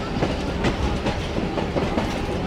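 The Musa Pak Express railcar rolls in toward the station platform, a continuous rumbling train noise with rhythmic clickety-clack of wheels over rail joints, fairly close and steady.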